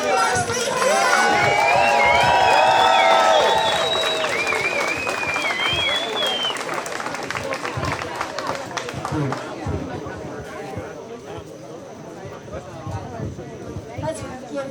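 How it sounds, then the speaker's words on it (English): Outdoor protest crowd in a park applauding a speaker, clapping with cheers and whistles early on, then settling into crowd chatter and scattered claps. "Let's give Pierre a round of applause."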